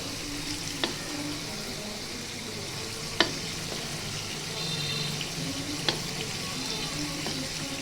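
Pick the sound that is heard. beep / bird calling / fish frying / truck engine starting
fish frying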